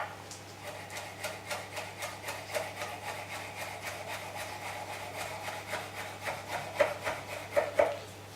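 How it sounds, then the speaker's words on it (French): Basil leaves chopped coarsely with a knife on a board, a steady run of quick close blade strokes that grow a little louder toward the end, with no talk. "nous allons hacher le basilic grossièrement, de façon à pouvoir le mettre partout"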